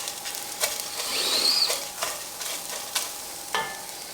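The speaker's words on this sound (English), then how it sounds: "I'm going to give them a quick stir inside of this pot here." A spoon stirs dried split peas in a pot, producing soft scraping and rustling clinks in a loose, uneven rhythm, close and fairly quiet.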